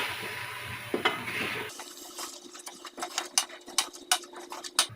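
Soaked moong dal is stirred into masala in a pan, first a sizzle, then a spoon scraping and tapping the pan in uneven strokes, close and fairly quiet.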